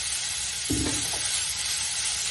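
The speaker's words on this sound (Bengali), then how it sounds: "ভালোভাবে ভাজা ভাজা করে নিতে হবে এটাকে" Boiled radish (mulo) frying in oil in a pan, a steady soft sizzle throughout with a brief stirring scrape near the start, no voices.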